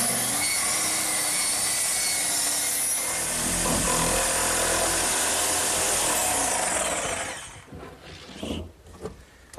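A saw cuts steadily through the wooden seat of a hearth-side settle to make a hatch, a dense, loud rasping that runs for about seven seconds before stopping, followed by a few scattered knocks and scrapes.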